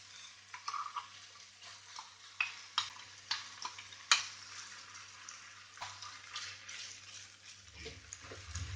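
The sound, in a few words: green masala frying with onions in oil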